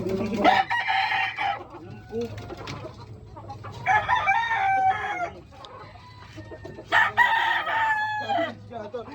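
A chicken clucks repeatedly and a rooster crows in several loud bursts, close by, with brief pauses between calls.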